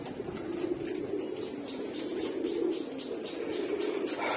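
Caged pigeons kept together call and squabble in a soft, continuous murmur of overlapping coos, steady and moderately close with no talking.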